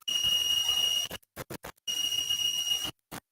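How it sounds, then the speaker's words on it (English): An electronic buzzer on a moisture-sensor circuit sounds in a steady high tone, cutting on and off in long bursts separated by short rapid pulses, fairly faint. "the buzzer is beating right"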